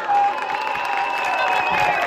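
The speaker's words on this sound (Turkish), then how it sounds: "Babaya bir alkış." Wedding guests applaud the groom's father at a Turkish wedding in Ankara, a steady wash of crowd clapping and cheering that fills the whole moment at close range.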